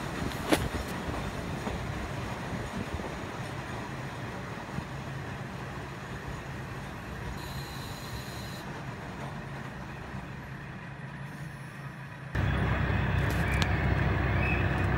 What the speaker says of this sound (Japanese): 列車は蔵元駅に到着しました。